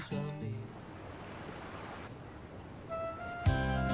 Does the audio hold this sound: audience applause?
no